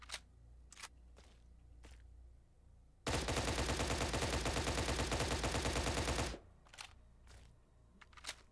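An L85A1 rifle in a video game fires one long, loud rapid-fire burst of about three seconds, framed by soft footsteps and faint clicks before and after.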